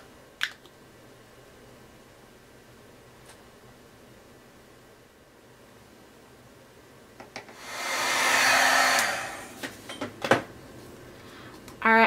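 A heat tool blasts hot air to melt clear embossing powder on a card, giving a brief, loud rushing burst of about two seconds amid quiet handling clicks and taps.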